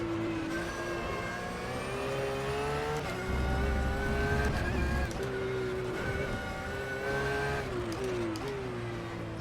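An Audi Kyalami in a racing video game drives by with a continuous engine whine that rises and falls through gear changes, accompanied by a low rumble and a brief heavier roar partway through.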